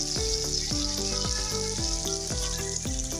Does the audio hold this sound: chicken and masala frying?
yes